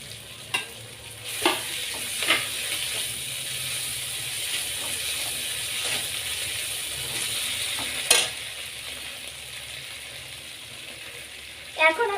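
Cumin and chili paste frying in a pan for a Latha fish curry, with a steady soft sizzle and a few sharp scrapes of the stirring utensil against the pan, close up.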